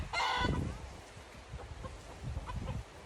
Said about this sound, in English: Not just chickens